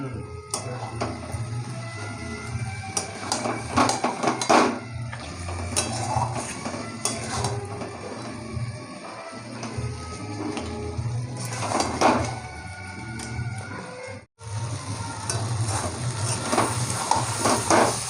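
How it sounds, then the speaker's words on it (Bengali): Mutton sautéing with spices in a pan for a potato mutton curry gives a continuous close sizzle with repeated scraping and clinking of a spatula against the metal. "মাংসগুলো ভালো করে কষাবো মশলার সঙ্গে।"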